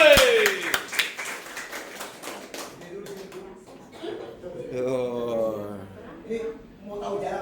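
Brief scattered hand clapping from a small audience is heard under close conversational talk and some chuckling, fading quickly as the speaking continues.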